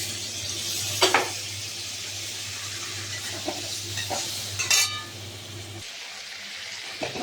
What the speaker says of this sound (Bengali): হলুদটা একটু নাড়াচাড়া করে নেবো কালারটা সুন্দরের জন্য